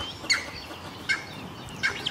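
Birds call in a deep jungle, three bright chirping bursts spaced roughly evenly over a couple of seconds, fairly close and clear above a soft background hiss.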